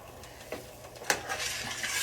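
A spoon scrapes and clinks against a pot while bean soup is stirred on the stove, a few close, uneven strokes with a soft sizzle underneath.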